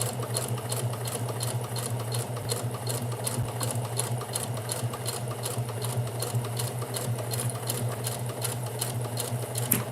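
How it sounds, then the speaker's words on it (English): A sewing machine stitching fabric runs continuously at a steady, rapid rhythmic clatter with a low motor hum underneath, close and even in loudness from start to finish. "This is sewing."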